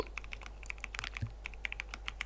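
Typing on a computer keyboard: a steady run of quick, close clicky keystrokes with a slightly uneven rhythm, quiet and alone over a low hum.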